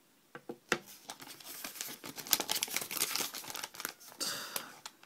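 A clear plastic bag around a Mini DisplayPort to VGA adapter crinkles close up in irregular bursts of sharp rustles and crackles, busier in the middle and trailing off at the end.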